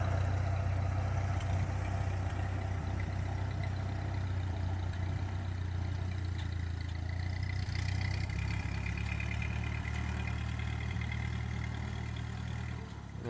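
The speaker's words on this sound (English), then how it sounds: "I'm going to need to do a little more carburetor adjusting. Can't get that stumble out of it." An engine in need of carburetor adjustment runs steadily with a low, rumbling idle throughout, close and continuous, its tone shifting slightly partway through as it stumbles.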